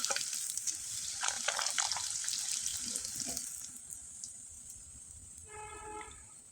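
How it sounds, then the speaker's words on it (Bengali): Flour shonpapri pitha fry in hot oil with a soft, continuous sizzle and light bubbling, stirred now and then, nearby and fairly quiet, with a faint tonal beep near the end. "আর এগুলো পিঠা না ভাজতে বেশি সময় লাগে না, তেলে দেবেন আর তুলে নেবেন।"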